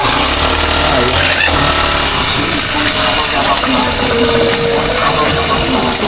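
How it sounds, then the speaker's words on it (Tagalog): A long-unused grass cutter's small engine rattles and sputters loudly at close range as it is started beside a fishpond, a rough continuous buzz throughout. "matagal na stock yung grass cutter, di po nagamit"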